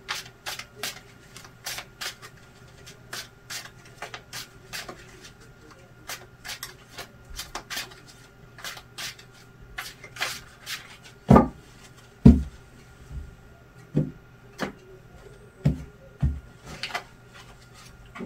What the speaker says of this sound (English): need to shuffle the cards a little bit